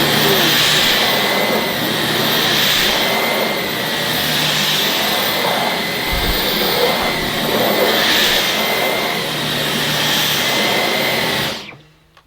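Dyson Digital Slim cordless vacuum runs on boost mode over carpet pile, a loud steady high whine with slow swells as it is pushed back and forth, cutting off abruptly at the end.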